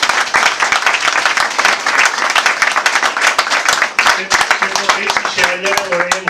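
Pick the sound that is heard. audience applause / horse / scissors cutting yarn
audience applause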